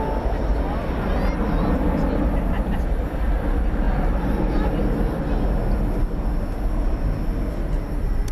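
A Qantas Airbus A380 on Flight 8 taxis toward takeoff at DFW Airport at night, a loud continuous low engine rumble and whine filling the air steadily from start to end.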